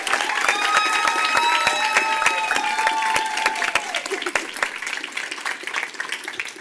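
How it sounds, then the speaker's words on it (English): An audience at a school board meeting claps steadily, with a voice heard over the start, before the applause thins out to scattered individual claps. "We can clap."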